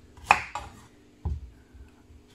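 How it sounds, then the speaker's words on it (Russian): A kitchen knife cuts cucumber on a cutting board while sushi rolls are prepared, giving two or three short, close knocks of the blade in a quiet room. "Нарезаем огурец."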